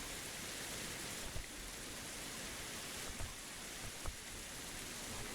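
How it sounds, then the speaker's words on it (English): Heavy rain in a survival video game, a steady broad hiss of downpour throughout with a few faint patters and knocks, no voices. "The rain is so loud."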